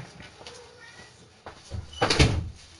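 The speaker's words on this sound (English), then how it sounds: "I got to close the door." An indoor door swings shut with a solid thud after soft shuffling; a voice can be heard talking nearby.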